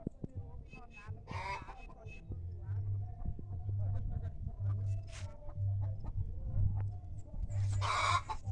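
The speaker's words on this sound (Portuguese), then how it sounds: "Tem um puleiro de galinha" Chickens at a rural chicken roost cluck and call in repeated bursts close by, with a rooster-like cry near the start and end, over a steady low hum and someone talking.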